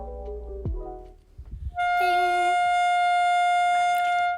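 A saxophone sustains one steady, clear D natural with the octave key for a few seconds after a brief low sound and some shuffling.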